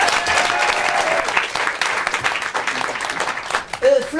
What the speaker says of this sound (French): Applaudissements pour Florence